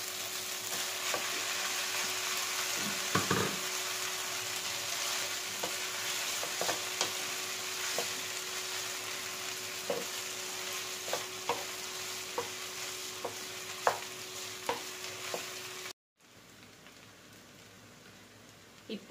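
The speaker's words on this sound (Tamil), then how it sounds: "இதில் எடுத்து வச்சிருக்க நூடுல்ஸ் ஆட் பண்ணிக்கலாம்" Noodles and onions stir-fry in a pan for spicy hotel-style noodles, giving a steady close sizzle broken by frequent scraping and tapping stirs before the sound drops away.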